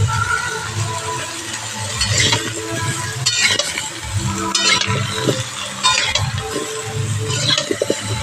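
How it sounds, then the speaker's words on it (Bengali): Mango pieces with turmeric stirred and frying in a pan for a sweet mango pickle, a steady sizzle with repeated scraping and clinking of the spoon against the pan. "আমগুলো দিয়ে ভালো করে একটু ভেজে নেব"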